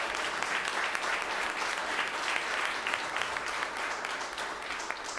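Steady, dense applause from a large crowd at a city council meeting, for a Savannah Police and Fire color guard, sustained and loud throughout without a break.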